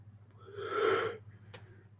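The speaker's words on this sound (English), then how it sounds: "Great yawn." A single drawn-out human yawn, close and fairly quiet, swelling for about a second and then fading, followed by a brief breathy exhale, with no talking.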